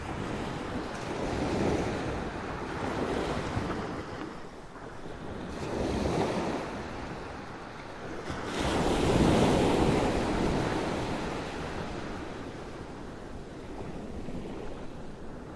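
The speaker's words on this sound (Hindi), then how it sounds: "क्या बढ़िया हवा चल रही है यार" Wind gusting at a beach with surf rolling in, a steady roar that swells and ebbs in broad waves, loud with microphone buffeting and no voices.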